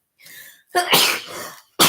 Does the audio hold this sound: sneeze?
yes